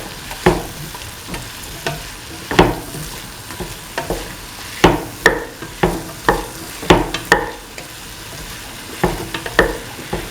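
A spoon stirs salt into a soy chunk, ash gourd and coconut milk stew in a pan, giving loud, close scraping strokes at a steady rhythm over a soft bubbling sizzle, with no talking.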